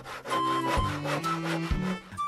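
A handsaw cuts through a wooden cross in steady back-and-forth strokes, a rasping rhythmic scrape that runs close and alone over a low tonal music bed.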